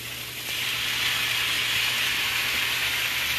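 Shrimp hit a hot pan in a quick stir-fry and sizzle with a steady, bright hiss that swells after a moment and holds evenly, close up and without talk.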